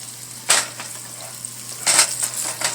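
Food fries in bacon grease with a quiet, steady hiss, broken by two short bursts of crackling spatter and a few softer pops.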